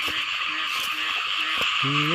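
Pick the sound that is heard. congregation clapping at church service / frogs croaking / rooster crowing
frogs croaking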